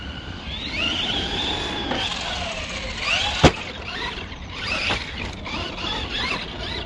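A Traxxas Stampede 4x4 V2 BL-2S brushless RC monster truck runs at full power, its motor whining and squealing as it rises and falls, with one sharp click partway through, at moderate distance and with no talk.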